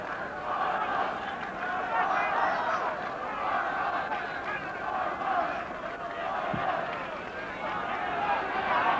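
A stadium crowd of about 25,000 at Clones for the 1984 Ulster Football Final between Armagh and Tyrone keeps up a steady, distant roar and murmur throughout.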